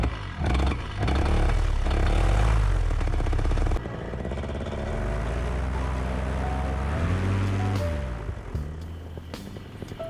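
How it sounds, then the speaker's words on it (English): A paramotor engine runs steadily and loudly for the whole stretch, its pitch rising and falling as the throttle is worked, with a brief dip partway and some clattering near the end; no talking. "The engine had been running for about 2 minutes here."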